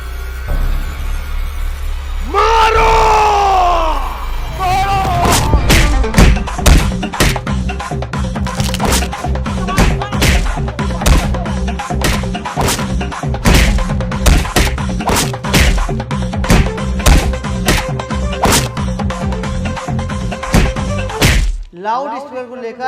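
Blows land during a fight as people are beaten: a loud, fast run of sharp cracks, thwacks and thumps, close and relentless, after a brief swooping tone at the start.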